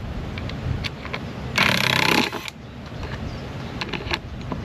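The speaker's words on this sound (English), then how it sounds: "So we're going to get these screws out carefully." A screwdriver backs screws out of a beehive at a new beekeeping setup: one loud, sharp whirring burst of under a second, with faint clicks and handling noises before and after.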